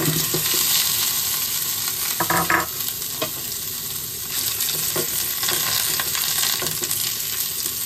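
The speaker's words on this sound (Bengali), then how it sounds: "এখন একটু সরিষার তেলে ছড়িয়ে দেবো।" Boiled potatoes fry in mustard oil, making a continuous loud sizzle with scattered stirring scrapes and light metallic clinks of a spoon against the pan throughout.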